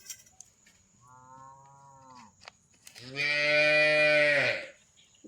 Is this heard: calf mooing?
yes